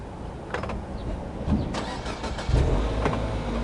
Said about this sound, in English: Car just started again. The ignition comes on.